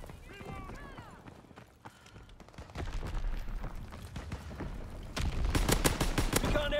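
Carbine gunfire in an online multiplayer shooter game, bursts of shots cracking over busy battle noise, with a dense volley near the end; voices talk over the action.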